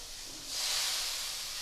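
Ground spice paste with a little water sizzles in a pan for a vegetarian kochur loti dish, making a soft, close hiss that swells partway through and holds.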